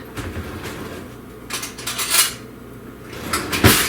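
Metal spoon scraping and clinking against a bowl while thick brigadeiro mixture of sweetened condensed milk is worked out, a series of close scrapes and clinks with no talk.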